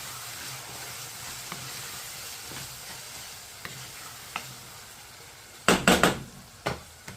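Spices sizzle quietly in hot oil, including dhania powder, cumin powder and turmeric, with scattered ticks from a spoon, then a burst of loud clanks against the pan near the end.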